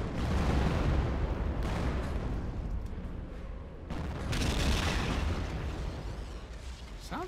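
Artillery fire in the World War II strategy game Company of Heroes, a loud continuous rumble of booming blasts and crackling bursts, with heavier impacts near the middle and end and no talk.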